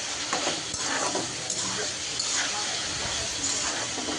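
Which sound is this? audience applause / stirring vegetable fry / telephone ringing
stirring vegetable fry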